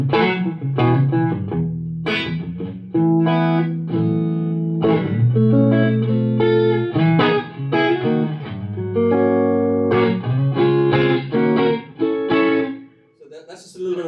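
Clean electric guitar playing chords and single notes with a light reverb tail, fairly loud and close, no voices.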